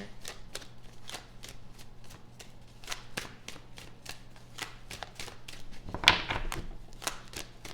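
Tarot cards shuffled by hand in a quiet room, a long run of crisp, regular riffling slaps at close range, with one louder flurry near the end.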